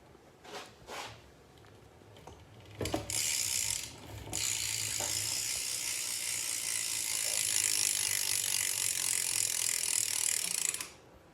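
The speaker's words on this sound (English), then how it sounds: "This is a Rant BMX hub. Y'all want a hub sound?" Rant BMX bike hub ratchet, a few separate clicks followed by a long, loud, fast buzzing ratchet as the wheel spins freely, close up for several seconds before stopping.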